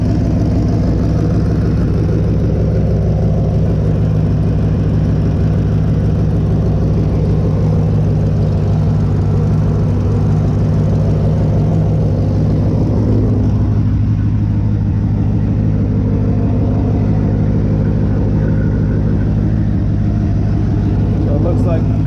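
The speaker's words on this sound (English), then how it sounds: "So it looks like the only exhaust leak I have right now is this one." Twin-turbo Corvette engine idling steadily with a small exhaust leak at an open donut gasket, a continuous low rumble that stays constant throughout.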